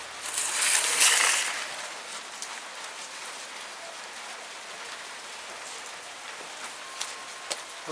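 Rain falls steadily in a dense, even hiss, heaviest in the first two seconds and then settling to a softer patter with a few isolated drops near the end. No voices.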